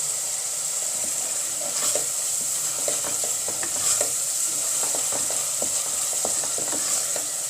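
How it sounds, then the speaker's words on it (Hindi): Kofta masala for a kaddu kofta curry roasting in a pan, with a constant close sizzle and a run of quick scraping stirs, loud and steady with no voices. "चार से 5 मिनट तो इसको लगेंगे ही भूनने में"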